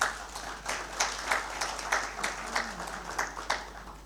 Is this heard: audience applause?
yes